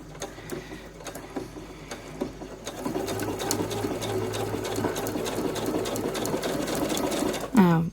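A sewing machine stitches scrappy Christmas quilt blocks, starting with light ticking and a voice, then running in a steady close whir for several seconds before a brief final squeal as it stops.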